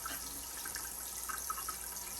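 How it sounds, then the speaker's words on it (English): Water runs from a sink faucet in a steady hissing stream, close and moderately loud, with faint splashes and gurgles and no talking. "That water will take a little bit to warm up"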